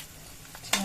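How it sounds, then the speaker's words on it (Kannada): Onion drops into hot oil with cumin and curry leaves in a pan, a quiet hiss followed by a sudden loud sizzle burst near the end. "ಈರುಳ್ಳಿ ಹಾಕೋತಾ ಇದ್ದೀನಿ"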